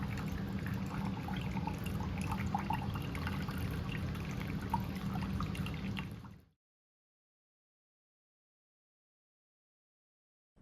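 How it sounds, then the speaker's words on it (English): Tea is poured through a filter in a steady, close trickle of liquid that runs evenly for about six seconds and then stops abruptly into silence. "and just pour your tea"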